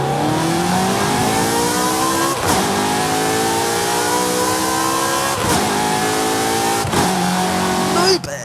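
In the racing game Forza Horizon 5, a car engine revs loudly and climbs through the gears, with three sharp upshift breaks followed by a renewed rising howl, a close and continuous sound. A voice can be heard faintly under it.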